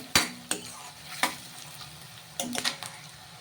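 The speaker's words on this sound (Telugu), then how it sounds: "ఉల్లిగడ్డలు ఎర్రగా వేపుకుందామండి." Onions fry in a pan for a chicken curry, a steady sizzle broken by sharp clacks of a spoon stirring against the metal, several scrapes in quick succession near the end.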